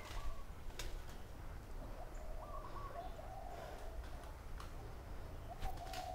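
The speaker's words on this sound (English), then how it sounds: "Big birds." Outdoor birds in Hawaii cooing like pigeons or doves, soft, repeated low calls at moderate distance over a faint breezy background hiss, with a few sharper chirps.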